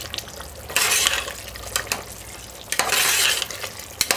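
Turkey neck brown stew with ketchup bubbling on a turned-up stove, two long bursts of loud sizzling and stirring separated by quieter simmering, with faint clinks of a spoon against the pot.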